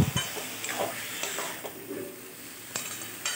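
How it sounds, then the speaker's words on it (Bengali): A spoon scrapes and stirs bottle gourd cooking in mustard oil in a pan on a gas stove, a few clinks and scrapes over a soft, steady sizzle. "এবার গ্যাসটা বাড়িয়ে খানিকক্ষণ নাড়বো"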